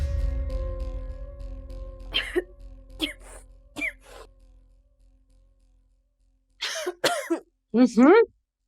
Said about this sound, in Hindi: खांसते हुए हाथ रखते हैं।